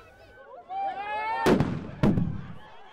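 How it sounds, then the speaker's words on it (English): Two sharp, loud stun-grenade blasts about half a second apart ring out as police disperse a march. They follow a stretch of wavering voices calling out. "police, instead of supporting the march, ended up dispersing it using stun grenades"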